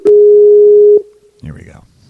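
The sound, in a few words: telephone busy signal while calling back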